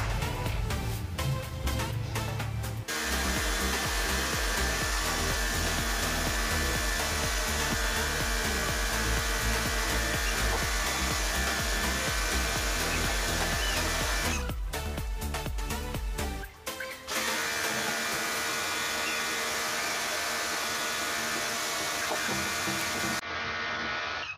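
Steady loud spray of water washing the AC condenser of an Isuzu Panther car, a continuous hissing rush with brief pauses and changes in tone as the stream moves across the fins.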